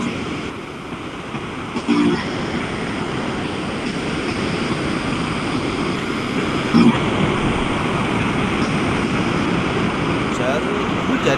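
Wind buffeting a microphone during an online class call, a steady broadband rumble and roar running the whole time with a couple of brief louder gusts, no speech heard.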